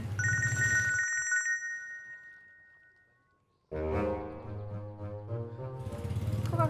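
A mobile phone rings unanswered with a bright, repeating electronic ringtone that slowly fades out, followed by a burst of louder background music.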